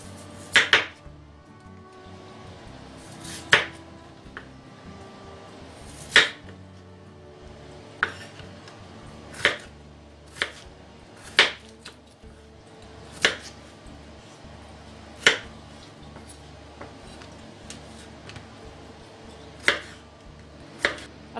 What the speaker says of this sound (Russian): Картофель нарезаю брусочками.